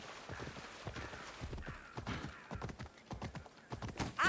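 Horse hooves clip-clop steadily in the Assassin's Creed Odyssey video game, a brisk even rhythm of hoofbeats close by over faint ambient background, with a brief whinny-like sound at the end.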